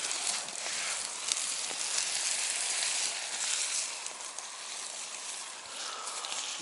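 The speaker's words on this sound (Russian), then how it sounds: "Разошлась турбопечка." A camping turbo stove burns with a steady, loud roaring hiss that holds fairly even for several seconds, no voices over it.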